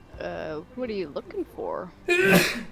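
A single loud, close sneeze bursts out near the end, just after someone speaks a short question.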